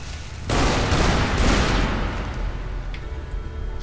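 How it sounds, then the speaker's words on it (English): A shotgun blasts at a tarantula in Tomb Raider: Underworld, a sudden loud boom half a second in followed by sustained rumbling reverberation and a faint later report. "You don't need to waste your shotgun shells on a tarantula."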